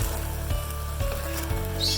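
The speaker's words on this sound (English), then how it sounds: "Make sure to add it when your pan is nice and hot so you get that sizzle." Mutton pieces sizzling in hot oil in a pan, a steady close frying hiss with a few soft clunks as the meat settles, no talking.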